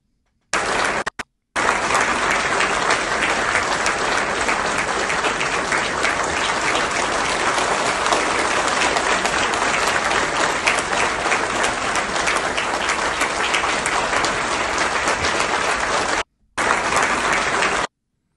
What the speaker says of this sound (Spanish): casi, casi tres minutos ahí de aplausos